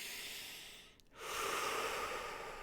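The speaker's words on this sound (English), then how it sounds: "deep breath out" A slow, deep breath out during a guided meditation, heard as a soft close airy exhale that fades briefly into near silence before a steady breathy hiss resumes.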